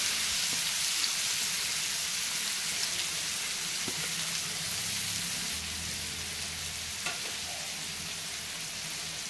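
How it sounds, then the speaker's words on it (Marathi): Two large, finely chopped onions frying in a pan on lowered heat for street-style masala pav, a steady broadband sizzle running throughout with faint stirring clicks and no talking. "आता यामध्ये मी 2 मोठे कांदे बारीक चिरून घेतलेले आहेत ते टाकायचे"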